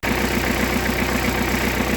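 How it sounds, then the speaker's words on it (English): A Kubota B3000 compact tractor engine runs while backing up, a loud, steady, close mechanical drone with an even throbbing pulse throughout. "we're going to back up the tractor so it's close enough that we can extend the drive shaft out"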